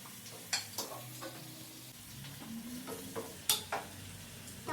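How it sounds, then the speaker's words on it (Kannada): Tomato frying in a pan for a brinjal dish, with a low steady sizzle and several sharp clinks of a utensil scraping and stirring, no talk. "ಒಂಚೂರು ಟೊಮೆಟೊ ಫ್ರೈ ಆಗಲಿ."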